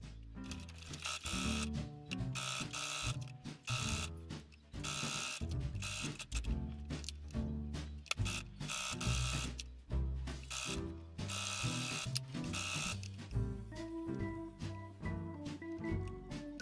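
A sewing machine stitches two layers of fleece for a quilted bag, a rapid mechanical rattle running in bursts with short stops between runs, clear and close.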